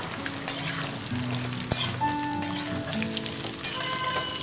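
Raw banana pieces fry in oil in a pan over a high gas flame, giving a steady close sizzle with faint scattered crackles and no voices.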